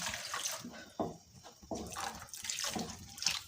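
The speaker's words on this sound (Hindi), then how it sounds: "अब मैं इसके अंदर जो है वो पानी डालती हूँ, जो मैंने पानी पका के रखा हुआ है ना गरम" Hot water is poured into roasted semolina in a pan for egg halwa, making a gurgling, splashing rush in uneven surges, close and moderately loud.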